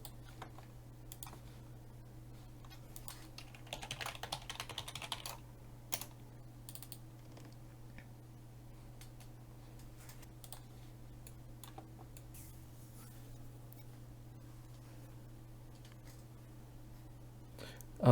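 Someone types a password on a computer keyboard, producing quiet, scattered key clicks with a short burst of faster tapping early on. A steady low electrical hum sits underneath throughout.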